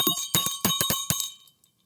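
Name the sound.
school bell ringing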